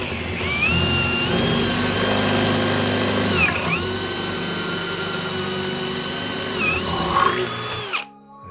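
A drill bores a 10 mm pilot hole into a solid walnut Roubo workbench top, whining loud and steady close by with a few dips in pitch as the bit bites, then stopping abruptly.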